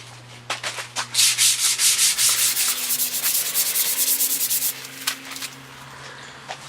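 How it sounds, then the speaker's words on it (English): Sandpaper of 100 grit scuffs a car's front lip, producing rapid rhythmic back-and-forth rasping strokes, loud and close, in a steady run of short bursts that fades out near the end, with no talking. "I'm gonna sand down the front lip using 100 grit sandpaper"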